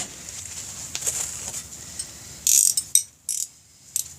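A wrench works the clutch push rod nut on a Big Dog Ridgeback motorcycle, giving a few short, close ratcheting rasps in quick bursts against a quiet workshop background.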